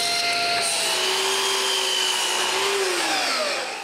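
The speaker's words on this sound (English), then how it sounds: "The first thing to do is to rip some strips of mahogany." Strips of mahogany are ripped on a power saw, the blade whining loudly and steadily under the cut, its pitch shifting slightly before the sound tapers off at the end.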